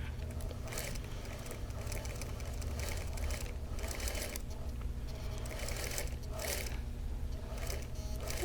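A sewing machine stitches pieces of a Wheel of Mystery quilt block, a steady, continuous mechanical whir close by, running without a break and without talk.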